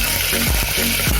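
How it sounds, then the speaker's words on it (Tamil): Small onions and a sliced onion deep frying in a cooker over high heat with garlic, green chili and ginger-garlic paste, giving a loud, steady, crackling sizzle with no voices. "இதெல்லாம் நல்லா டீப் ஃப்ரை பண்ணுங்கள்."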